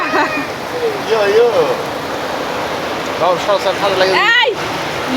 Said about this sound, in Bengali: বৃষ্টি হইতেছে রে